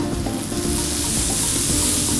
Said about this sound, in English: I can smell that garlic sizzling there